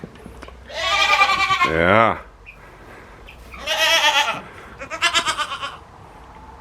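Goats, does begging for food on a farm, bleat loudly nearby in several wavering calls, with a person briefly speaking between them.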